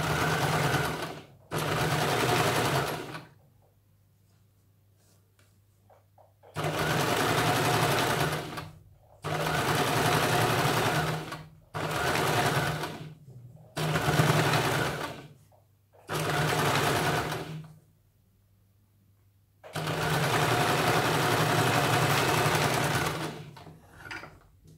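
Sewing machine stitching the pieces of a princess-cut blouse, running in loud bursts of a few seconds each with short quiet pauses between, a steady mechanical whirr.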